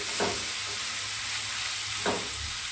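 Chicken fries in a pan for an Assamese papaya and curry leaf dish, a steady close sizzle broken by two brief scraping stirs of a spatula, with no voices.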